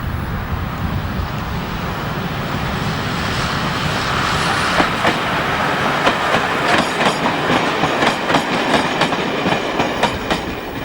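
A Metro-Cammell Class 101 diesel multiple unit runs near Banbury South with a broad, steady rumble, then a quickening series of wheel clicks over rail joints as the carriages pass close by.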